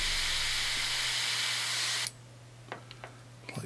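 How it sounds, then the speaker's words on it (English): An airbrush sprays paint onto a miniature figure, giving a loud continuous airy hiss close by that stops abruptly partway through, followed by quiet handling noises. "I don't want to spray out from underneath here."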